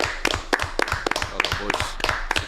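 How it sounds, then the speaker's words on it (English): A few people clap for guests in a live football talk-show studio, a sparse, uneven patter of separate hand claps up close, with faint voices murmuring beneath. "Massive round of applause to our guests today."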